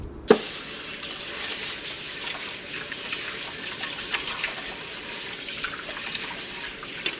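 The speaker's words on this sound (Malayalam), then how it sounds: "അപ്പോൾ ഞാൻ ഈ അരി ഫസ്റ്റ് ഞാനൊന്ന് കഴുകിയെടുക്കട്ടെ കേട്ടോ" Raw rice is washed under a running kitchen tap. Water pours in a steady, close rush from a brief knock at the start, with small splashes and clinks along the way and no talking.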